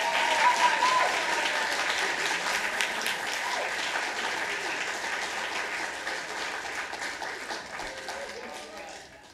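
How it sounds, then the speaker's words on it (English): An audience at a San Francisco Public Library awards ceremony applauds an honoree, sustained dense clapping from a roomful of people that slowly tapers over several seconds. "Let's clap him and welcome him up here."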